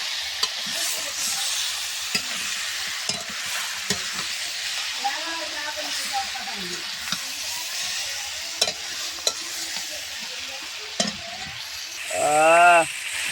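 Village chicken curry stir-fried in a pan, a steady close sizzle broken by regular scrapes and knocks of a spatula, with a short louder hiss of steam near the end.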